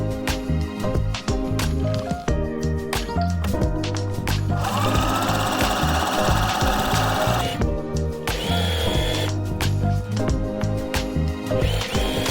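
A sewing machine runs steadily, stitching elastic into a pyjama bottoms waistband. The motor whirs loud and close in continuous bursts with short pauses, over a background of music.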